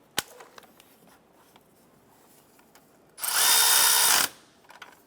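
A power tool tightens a center bolt on the right front engine mount of a 2008-2012 Honda Accord, one loud whirring burst of about a second after faint clicks and handling noises, no talk.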